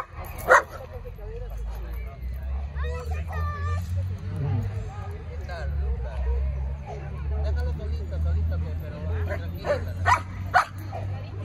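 German shepherd dogs at a gathering of large show specimens, with a few sharp barks and yips rising out of crowd murmur and talk, mostly mid-distance.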